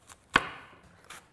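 A knife chops once through leeks on a cutting board: a single sharp, crisp thwack that fades quickly, with a faint tap just before and after.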